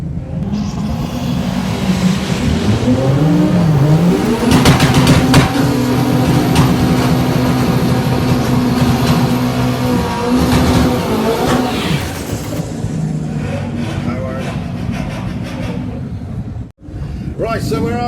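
A turbocharged VR6 VW Golf roars loud and close in a heads-up drag race, engine droning hard through sustained revs with a rising whine, then easing off near the end, with a commentator talking over it.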